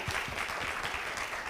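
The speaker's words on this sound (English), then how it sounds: "Everybody, a round of applause." Audience applause at a Coffee County political forum, a short burst of close, busy clapping with distinct individual claps, loud and continuous for the whole moment.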